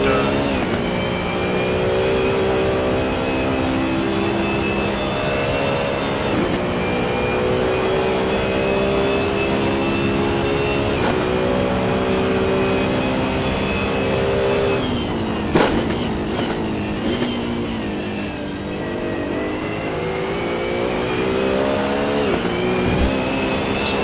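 BMW Z4 race car engine at the Zandvoort circuit in a racing video game, a loud sustained whine with stepped upshifts and pitch dips at braking points. A brief sharp transient and possible tire scrub come midway.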